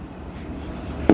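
Pen or marker scratches briefly across a surface while notes on molarity are written, a soft, close scribble ending in a sharp tap.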